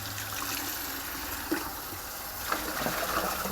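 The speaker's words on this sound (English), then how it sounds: "The water hose." Water runs steadily from a garden hose, a continuous rushing gush with a couple of faint knocks, fairly close and constant throughout.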